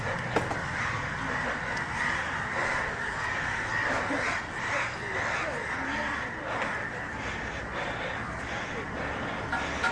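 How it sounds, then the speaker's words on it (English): A gathering of crows caws continuously on a hillside road near Chandragiri, a dense chorus of harsh overlapping calls filling the air, with other birds and a bit of talk mixed underneath. "Looks like the gatherings of the crows right here."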